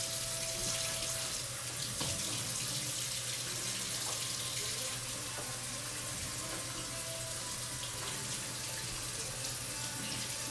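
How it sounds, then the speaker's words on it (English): Tap water running steadily into a sink while a hand is washed in a kitchen, a constant close splashing flow with small shifts as the hand moves through the stream. "Just a second, I got to wash my hand again."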